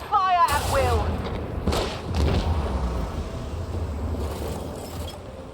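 Ship weapons fire at will in a Warhammer 40,000: Rogue Trader space battle, making several booming thumps and blasts with a low rumbling bed throughout and a couple of sharper bursts near the start.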